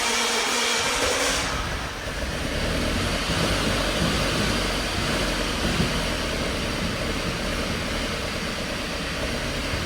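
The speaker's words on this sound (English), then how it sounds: "Okay, so we still have the same exact misfires as before." An Audi engine with misfires runs steadily and loudly for the whole stretch, a dense, rough, continuous drone with uneven low-end roughness and no speech.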